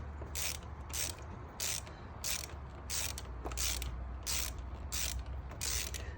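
Wrench ratcheting to loosen the clutch lever bolt on a 2018 Kawasaki Ninja Z125 Pro motorcycle, a run of repeated rasping clicks in a steady rhythm, close up, with no talking.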